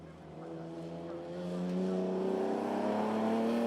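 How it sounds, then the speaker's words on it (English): A Volkswagen Polo rallycross car races across the loose surface at Chessons during a British Rallycross round, its engine droning loudly and steadily rising in pitch as it accelerates, with a commentator talking over it. "Paul Smith looking a bit distant now in the Polo in third place as he makes his way now across the loose at Chessons."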